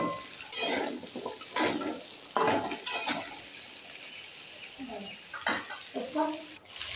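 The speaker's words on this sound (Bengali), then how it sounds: "দিয়ে কিছুক্ষণ নাড়বো।" Mixed vegetables including sweet potato, jackfruit seeds and papaya stirred as they fry in a pan, with a sizzling hiss and bursts of stirring strokes, close by and moderately loud.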